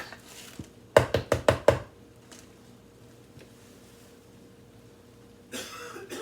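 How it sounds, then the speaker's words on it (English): A quick burst of about five sharp coughs in a row, close by, followed by quiet and a brief rustle. "Having a coughing fit in there."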